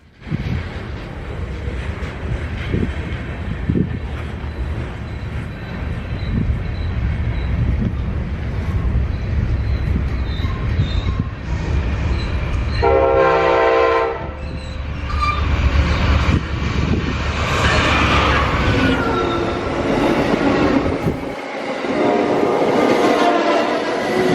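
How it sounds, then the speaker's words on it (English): Amtrak 63, the westbound Maple Leaf passenger train to Toronto, arriving on track 2: a long steady rumble of wheels and engine with a loud horn blast midway and a rising screech as it rolls close. "it was time for Amtrak 63, the westbound Maple Leaf to Toronto, to come in on track 2."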